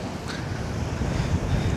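Ocean waves and strong wind at Isla De Gigantes, a steady roaring wash of surf mixed with gusty microphone wind noise, loud and continuous with no talking.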